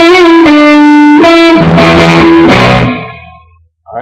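A loud, heavily distorted electric guitar plays a short riff of sustained notes stepping downward, ringing out before a brief silence and another note.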